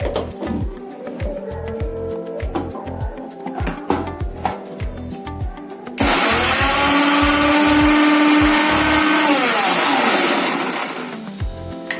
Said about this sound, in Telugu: ఇది ఫస్ట్ ఒకసారి మిక్సీకి వేసి మళ్ళా చింతపండు వేయాల ఫ్రెండ్స్